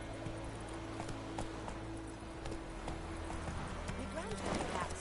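Horse hooves clip-clopping at a steady gallop in The Witcher 3 on PS5, a continuous rhythmic patter under a low music drone, with someone talking over it.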